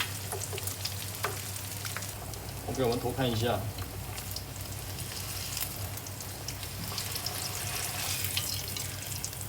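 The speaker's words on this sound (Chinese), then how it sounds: "只用这种油炸的方式，油不需要太多，也不需要说完全浸透在里面" Pork skin deep-frying in a shallow layer of oil, a continuous soft crackling sizzle throughout with a steady low hum underneath, and a person briefly speaking partway through.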